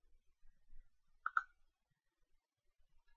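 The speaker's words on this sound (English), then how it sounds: "So let's click Save." A mouse clicks the Save button in Dreamweaver CS6, giving two quick, crisp clicks close together, faint and alone in an otherwise quiet room.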